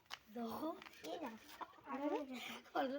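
Several close Fayoumi chickens cluck in short, repeated bursts throughout, loud and busy, with voices in the background.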